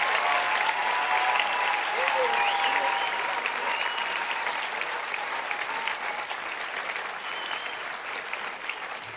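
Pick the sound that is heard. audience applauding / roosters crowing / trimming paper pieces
audience applauding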